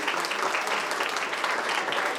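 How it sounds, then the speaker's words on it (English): Dense, steady applause from an audience at a 2022 Model United Nations conference fills the whole stretch evenly, close and loud, with no pauses or single claps standing out. "Can we please have a round of applause for everyone?"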